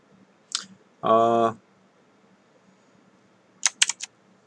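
Keys tapped on a computer keyboard while entering text: a single click, then a burst of three or four quick clicks, close and fairly quiet, with a short voiced sound between them.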